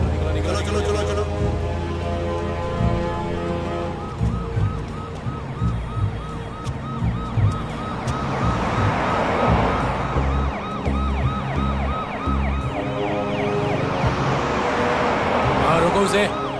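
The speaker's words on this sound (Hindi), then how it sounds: "हाँ लेकिन सर वो तो एम्बुलेंस वो है" An ambulance siren wails in repeating rising and falling sweeps on a busy road, loud and close, mixed with engine noise and shouted talk from people directing traffic aside.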